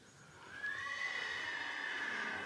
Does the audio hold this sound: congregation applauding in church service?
no